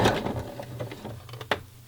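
Sewing machine stitching stretched elastic onto fabric while making a wrap-around style bra, a steady close mechanical whir with faint rhythmic clicks, a brief sharp knock near the end.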